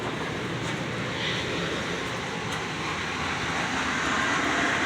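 Steady, loud rumble and broadband roar of an Amtrak passenger train running close by, continuous for the whole stretch with no voices.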